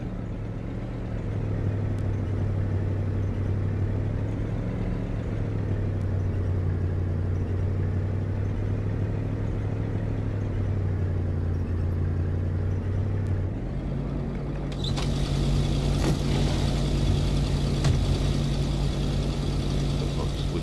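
Truck engine idling steadily in the video game Kona, a low continuous rumble that shifts and brightens near the end, with a voice speaking over it.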